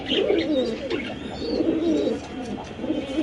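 Pigeons coo close by in a loft at a bird farm, a continuous layered warble of low throaty calls from several birds, with faint chirps above.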